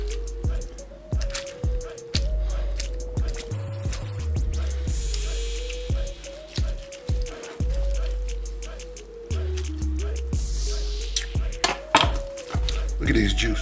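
A knife slices through smoked Texas brisket on a cutting board in a backyard barbecue setting, with rapid repeated chopping knocks in a steady rhythm over a low continuous hum, loud and close.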